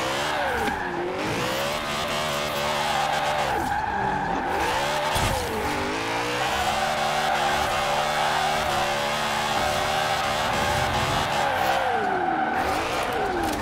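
A BMW E30 drifting in Forza Horizon 4, its engine droning steadily while tire squeal rises and falls in long sweeping waves, loud and continuous throughout with no talk.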